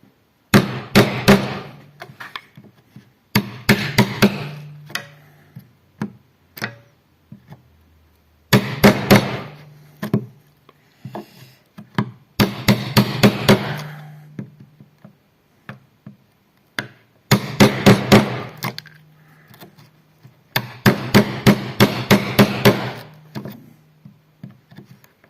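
A wood chisel is struck repeatedly to cut a mortise for a marking gauge arm. Groups of sharp, close mallet blows alternate with brief pauses, and there is no talking.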